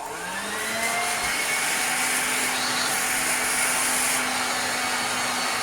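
A restored 1960s Hoover Junior 1334A upright vacuum cleaner runs steadily, giving a loud, continuous motor whine and airflow roar with a faint low hum, unbroken for the whole stretch.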